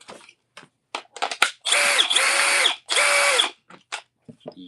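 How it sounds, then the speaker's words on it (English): Milwaukee 1/2-inch cordless hammer drill driver whirs through two short bursts of high motor whine, close and loud, set among clicks and handling knocks. "Hammer drill driver, 1/2 inch."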